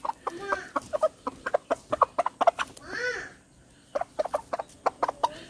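Country chickens clucking close by in a short run of rapid, repeated clucks with a brief pause before the calls resume; one hen in the flock is blind after an infection.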